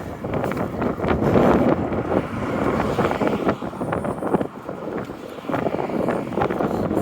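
Cold wind blowing outdoors along a city street, loud buffeting gusts rumbling against the microphone, rising and dipping without letup and with no talk.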